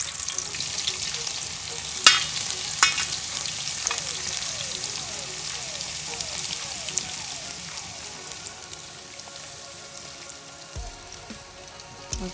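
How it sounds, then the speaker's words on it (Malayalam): Onions frying in coconut oil in a pan give a close, crackling sizzle with stirring clatter and a few sharp spoon knocks, gradually settling softer toward the end. "കുറച്ച് ഉള്ളി ആദ്യം വറുത്ത് പോരാ."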